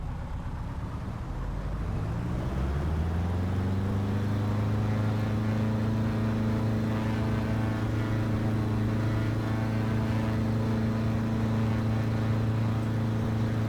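Piper PA-18 Super Cub piston engine in Flight Sim World, droning close and steady as it spins up, its hum climbing in pitch over the first few seconds before holding a constant loud tone.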